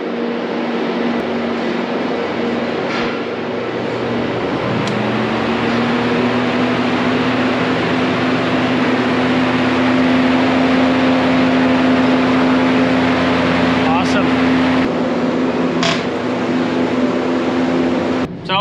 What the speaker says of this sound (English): It's the first time that all 10 of those exhaust chimneys are running at the same time